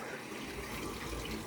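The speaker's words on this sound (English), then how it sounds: "How about that fancy pacer pump?" A pacer pump fills a farm sprayer with water: a steady, close rush of pouring, splashing water continues without a break.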